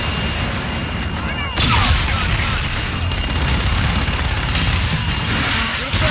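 Aircraft gun run strafing a target in Call of Duty: Infinite Warfare, a loud sustained roar of heavy rapid fire that surges partway through and keeps rumbling, with explosive booms layered under it.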